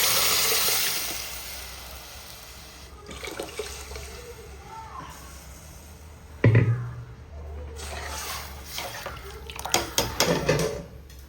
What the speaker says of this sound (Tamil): பருப்பு தண்ணி ஊற்றிக்கிறேன்